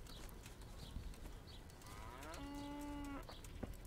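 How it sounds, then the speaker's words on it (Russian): A single drawn-out cow moo from farm cattle in the video game Kingdom Come: Deliverance, rising then holding steady, heard at moderate distance over a quiet outdoor ambience. "Коровок доить."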